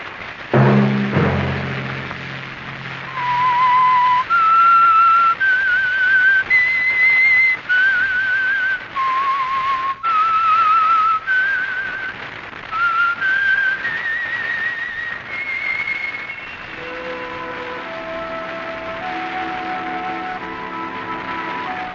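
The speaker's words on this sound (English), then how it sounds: "Let that whistle be your signal for the Signal Oil program" A clear whistled melody of steady, stepping notes, carried over a soft orchestral background that swells toward the end.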